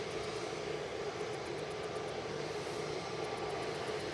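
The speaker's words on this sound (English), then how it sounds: "KLM 1029 from Amsterdam, 737-700 PHBGM." KLM Boeing 737-700 jet in from Amsterdam at Manchester Airport, its engines giving a steady, even roar with a steady whine, continuous and unbroken without any voices.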